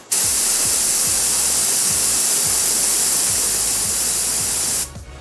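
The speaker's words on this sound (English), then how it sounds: "Rubber tip air compressor test." Steady loud hiss of compressed air blowing through a rubber-tipped air compressor nozzle, continuous and close for about five seconds before cutting off abruptly.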